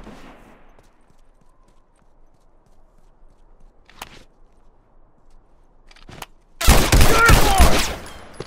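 Shootout in an online 1v1 video game: a burst of rapid gunfire erupts loud near the end after mostly quiet moments with a few isolated shots and footsteps.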